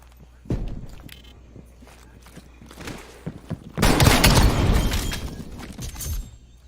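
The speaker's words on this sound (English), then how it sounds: "I can hear your footsteps," In Call of Duty Cold War, game footsteps patter irregularly, with a louder burst of gunfire-like crashing in the middle before fading back to scattered steps.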